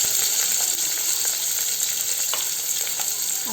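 Onions fry in hot oil for a home-style bottle gourd curry, a loud, close, steady sizzle with faint stirring scrapes throughout and no voices.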